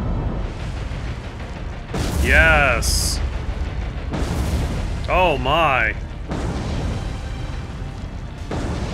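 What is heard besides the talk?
ship explosions in video game War On The Sea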